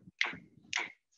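Two crisp finger snaps ring out about half a second apart, close and clear against near silence, followed by the start of a third.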